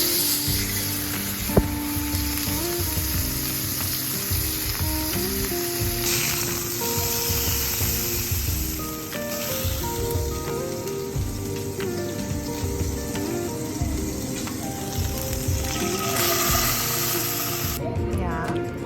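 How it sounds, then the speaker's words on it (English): Venison tenderloins sear in very hot fat in a pan, giving a steady, loud sizzling hiss that runs throughout with little change. "First we make our fat very hot, and then we sear our tenderloins on both sides for 2 minutes"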